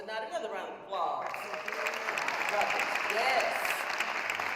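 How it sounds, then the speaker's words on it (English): An audience at an MLK Day celebration breaks into applause, a dense wash of clapping that builds quickly after a brief voice and holds steady, filling the room. "Another round of applause."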